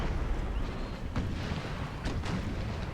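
Cannons in the Empire: Total War battle game fire in a run of dull, rumbling booms with cracking bursts scattered through a few seconds of battlefield din.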